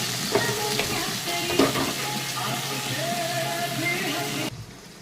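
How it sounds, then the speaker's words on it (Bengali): Sliced okra frying in hot oil in a pan, with a close, steady sizzle and crackle plus a few stirring clinks, which cuts off abruptly near the end. "আমার তেলটা গরম হয়ে গেছে, এখন আমি ভেন্ডিটাকে ভেজে নেব।"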